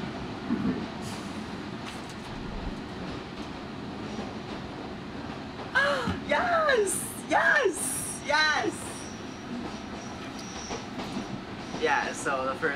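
A train arrives at Appleby station, a rumbling railway approach with wheel and brake squeals rising in several sharp bursts in the second half, fairly close and loud over steady background noise.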